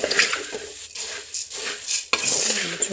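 Puffed rice (charmuri) is roasted and stirred in a pan, with loud, irregular scraping and clattering of a spoon against metal in several bursts over a dry, crackly rustle.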